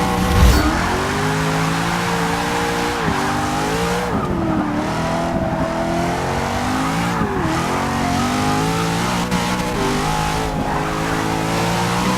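Corvette C7 Z06 with a twin-turbo engine driven hard on the Nürburgring, its loud engine note rising and falling steadily through gear changes and corners, with brief tire squeal, alone without talk.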